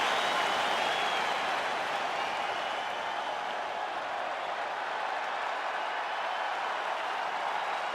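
A capacity UFC arena crowd before a welterweight championship fight keeps up a dense, steady wash of applause and cheering throughout, with a faint voice buried beneath.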